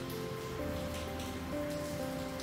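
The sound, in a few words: rain ambience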